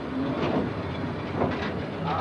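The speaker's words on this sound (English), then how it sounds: "I run a locomotive in this area." Train cars pulled by a locomotive roll along the rails in a working rail yard, giving a steady, loud rumble with faint rhythmic clatter throughout.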